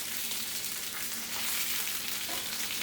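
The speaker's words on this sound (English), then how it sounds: "Okay, they're cooking, so we're just going to turn them over a little bit." Italian sausages fry in a pan with a continuous, even, crackling sizzle at moderate volume throughout, and no voices are heard.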